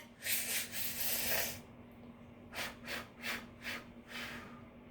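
A person exhales in long hissy breaths imitating a running faucet: one sustained rush of air, then a pause, then four shorter rhythmic puffs, all close and soft.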